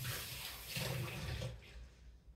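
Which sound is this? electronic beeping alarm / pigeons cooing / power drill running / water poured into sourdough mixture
water poured into sourdough mixture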